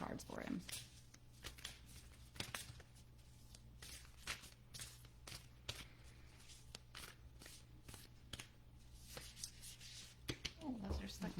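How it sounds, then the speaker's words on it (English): Angel oracle cards being shuffled and pulled from the deck, a soft papery riffling with scattered flicks and taps, close and fairly quiet, with a person talking intermittently over it. "So I'm going to pull some cards for him."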